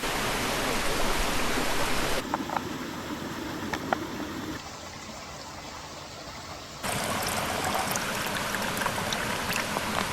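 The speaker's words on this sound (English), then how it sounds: "I'm gonna fill up my water bottle before I head out." Water rushes steadily from a mountain stream in the Adirondacks, a broadband wash with brief quieter stretches where a bottle is dipped and filled, the flow dulling and then returning to full strength.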